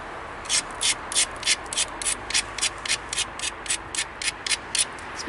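A dacite flint-knapped point has its edge ground in a steady rhythm of short scraping rubs, about three a second, close and fairly quiet over a soft background hiss.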